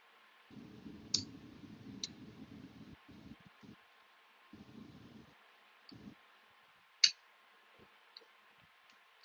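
Picking an old lock cylinder: soft metallic scraping and raking comes in short bursts, with a few sharp clicks, one louder snap near the end, all close and quiet with no talking.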